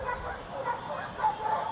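Dogs yip and bark faintly indoors in the background, a few short, muffled calls alongside a voice.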